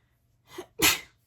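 A single close sneeze: a short inhaled catch followed by a sharp, breathy burst, loud against otherwise quiet surroundings.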